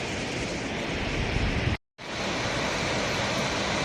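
The Pittalaborra waterfall, heard from the hilltop above, makes a steady broadband roar that cuts out briefly for a moment near the middle and then resumes at the same level.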